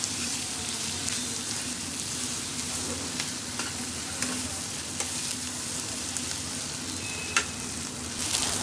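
Fish roe stirred as it fries in a pan, a continuous sizzle with soft scraping strokes of the spatula and a few sharper clicks, heard close and without any talk.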